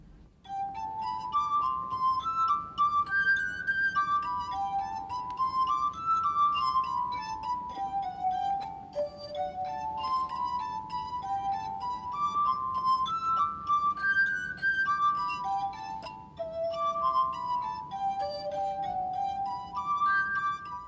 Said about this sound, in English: I play the glass harp, and I'm an explorer of sound. My glass harp is made up of 60 brandy snifters